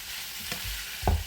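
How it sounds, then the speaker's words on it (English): Peppers and onions frying in a slightly too-small pan at home, a steady soft sizzle with a couple of brief stirring clatters. "I'm going to put in peppers and onions."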